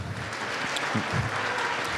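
A school band concert audience applauds briefly, a moderate, even patter of scattered clapping from a hall crowd with no voices over it.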